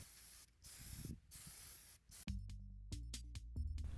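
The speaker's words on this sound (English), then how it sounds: "Then spray paint outside. I used an acrylic black primer." Acrylic black primer spray painted outdoors onto a crafted terrain piece: several short bursts of steady hiss from the aerosol can, close by, separated by pauses, followed by quieter clicks and handling sounds.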